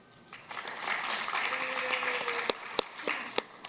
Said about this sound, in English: Nice cheer, thank you, sir.